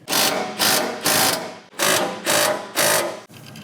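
A ratchet wrench tightening a 19mm nut onto a bolt on a front bumper for a 2022+ Toyota Tundra, giving six loud, close, rhythmic ratcheting bursts with brief pauses between strokes.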